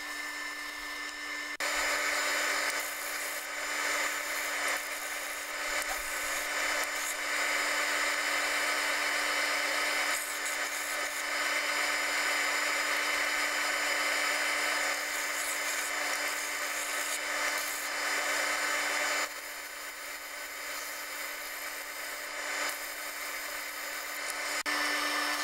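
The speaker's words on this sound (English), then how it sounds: "I use the sander to get down to the line" A cheap power sander grinds steadily across wood for a guitar wall mount, a continuous close, fairly loud whir that starts after a brief pause and drops slightly in level near the end.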